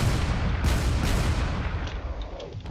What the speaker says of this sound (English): This battleship is just flinging cannon shells everywhere.